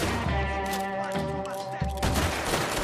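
Gunfire in a Red Dead Redemption 2 fight: a dense fusillade of shots and thuds over a steady backdrop of game music, loud and continuous, with a sharp burst of shooting near the end.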